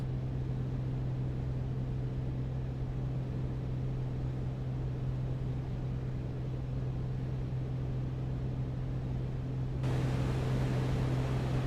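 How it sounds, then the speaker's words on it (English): The A2A Comanche aircraft engine in a flight simulator game drones steadily, a constant muffled low hum with broadband rushing noise as if heard through headphones in the cockpit, unchanging for over ten seconds and briefly brighter at the end. "I like the engine sounds on this Comanche."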